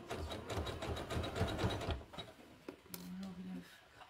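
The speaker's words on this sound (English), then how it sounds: "a little bit of stitching. So I'm sort of overlapping it a little." A sewing machine stitches strips of a jelly roll rug in a quick, steady burr for about two seconds, then falls to lighter clicks and a brief low hum.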